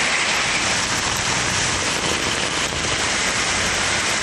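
Heavy rain pours down in the Tiruchirappalli area, a dense, loud, steady roar of drops with no gaps and no voices.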